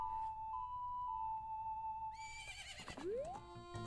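A horse whinnies in Legend of Zelda: Majora's Mask, a long high neigh that trails off as game music plays underneath, followed by a short rising squeal and a snort.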